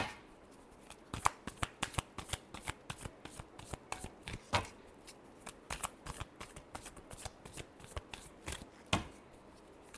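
Tarot cards are shuffled by hand in a steady run of crisp riffling flutters and slaps. The sound is close, quiet and continuous, with no talking.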